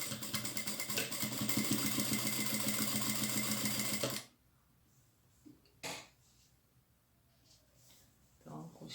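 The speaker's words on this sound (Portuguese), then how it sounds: "Eu vou então fazer a costura das laterais." A sewing machine stitches the side seams of a fabric makeup pouch, running loud and steady up close for about four seconds, then stopping, followed by quiet handling noises and a cough.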